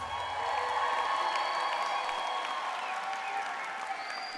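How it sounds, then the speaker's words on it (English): Applause from the audience at a Merritt College graduation ceremony, moderately distant and steady, with a few cheers and tonal whoops riding over the clapping. "let's all give these graduates a round of applause."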